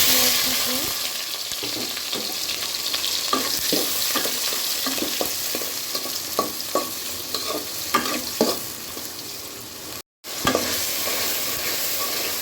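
Beef and mixed spices frying in a pot over high heat, with steady sizzling throughout and repeated scraping clicks as the mixture is stirred, closely heard; a brief dropout near the end.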